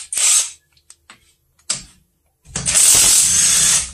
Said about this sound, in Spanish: y ahora vamos a sacar los pernos que anclan toda la cabeza de fuerza,